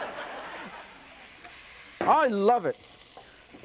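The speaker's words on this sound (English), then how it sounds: "can you hear the sizzling sound?" Pork chops sizzle in a pan as sauce braises, a soft steady frying hiss under a man's spoken remark.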